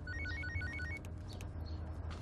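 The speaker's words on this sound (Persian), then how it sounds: "تلفنم." A telephone rings indoors with a repeated, faint electronic trill in quick bursts, over a low background hum, with no speech.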